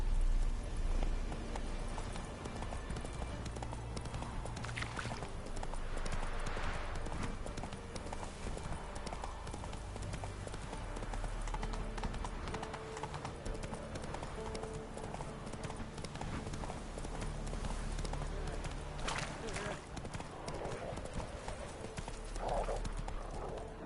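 Hoofbeats of Roach, a horse in The Witcher 3: Wild Hunt, clip-clop in a fast steady gallop rhythm, close and continuous for about twenty seconds, with brief snorts and a faint voice.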